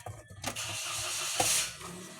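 An engine cranks with a couple of sharp bursts, then catches into a rough, hissing roar that settles into a lower idle.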